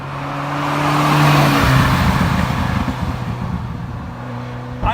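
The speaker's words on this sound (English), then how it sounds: "This car has the factory exhaust on it and there's just not all that much noise with it, unfortunately." Ferrari F40 engine on factory original exhaust while driving, a steady, fairly subdued drone that swells gently through the middle and settles, with no voices.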